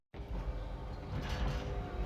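Elevator door sliding open as the lift arrives, a steady close mechanical rumble and whir that starts abruptly and carries on for about two seconds, with no talking.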